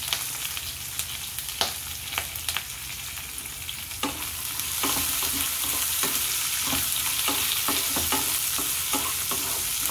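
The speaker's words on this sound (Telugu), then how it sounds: "ఉల్లిపాయ వేగిపోయిందండి" Chopped ginger and onion fry in a hot pan with a steady sizzle that swells louder partway through. Regular scraping stirs and sharp utensil clicks sound close up.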